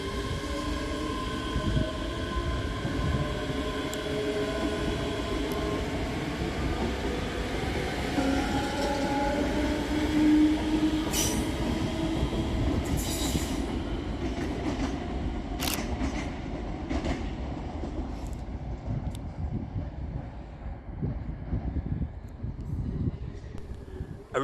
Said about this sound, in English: Departed over on the far side is 385032 and 385001 with the 1901 Scotrail service from Edinburgh Waverley to Glasgow Central.